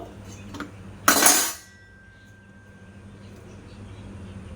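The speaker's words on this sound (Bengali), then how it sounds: "এবার আমি থালার থেকে সব তুলে প্লেটে তুলে নেব একটা একটা করে ঠিক আছে তো চামচ দিয়ে এবার আমি তুলে নেব" A metal spoon clinks and scrapes once against a plate while lifting homemade tutti frutti biscuits, a single bright clatter lasting under half a second and followed by quiet room tone.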